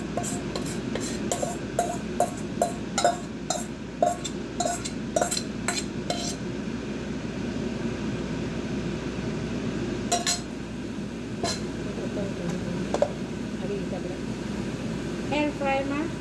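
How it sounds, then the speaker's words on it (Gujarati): Spiced potato is transferred from a bowl into an air fryer basket, with a run of quick metallic clinks and scrapes of a spoon in the first six seconds, then sparser taps, all over a steady background hum. "હવે આપણે એને ટ્રાન્સફર કરીશું એર ફ્રાયરમાં."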